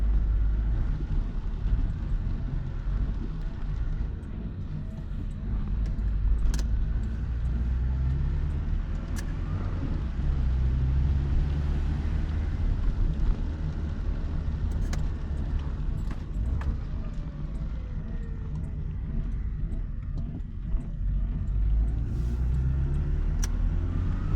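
A Citroën BX 14 RE runs steadily on the road, its engine a low, continuous rumble heard from inside the cabin with faint road noise and occasional small rattles, no talking.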